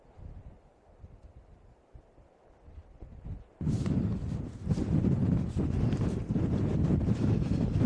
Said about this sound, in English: Oh, that wind is keen this morning.